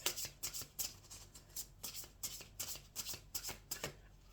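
Vintage wisdom oracle cards being shuffled by hand, a close, crisp run of about a dozen rapid riffling bursts in steady rhythm with no talk.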